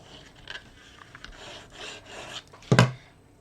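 Glued paper is burnished down on a handmade travelogue folio with a tool, giving soft rasping rubs and short scrapes, then a sharper, louder stroke near the end, close and without speech.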